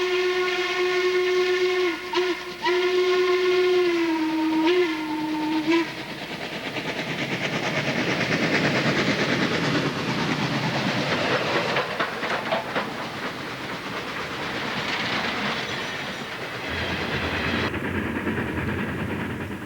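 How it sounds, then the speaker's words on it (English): A train hooter sounds in a few short and long blasts, then gives way to the rushing, rumbling noise of a passing train with rhythmic clatter. "And some engines have hooter whistles."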